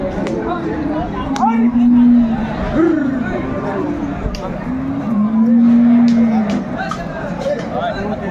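A Sahiwal bull at a busy cattle market gives two drawn-out low moos, the second longer, close and loud over the chatter of the crowd and people talking nearby.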